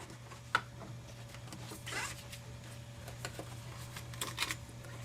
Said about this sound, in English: run it through your Cuttlebug